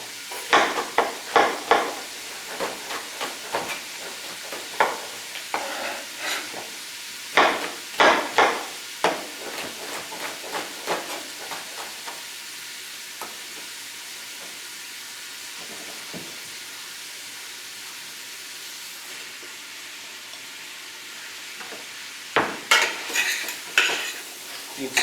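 White onions tossed into bacon grease in a pan, stirred with a utensil: scraping and clattering strokes in bursts over a soft background sizzle, with a quieter stretch in the middle.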